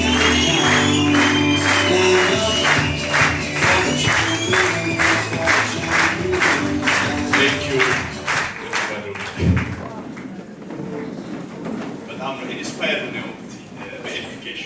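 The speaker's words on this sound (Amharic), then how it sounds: "ሞቅ ባለ ጭብጨባ" Audience at a talk applauding in rhythmic unison, loud and sustained for about nine seconds before fading into murmurs and a voice.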